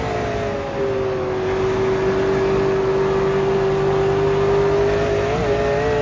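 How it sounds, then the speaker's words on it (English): An in-car V8 Supercar engine pulls hard on throttle up a hill at Oulton Park, a loud, steady high-pitched drone that holds constant with a slight wobble near the end, close and continuous throughout. "I want you to listen to his throttle rhythm as well as he heads to up the hill"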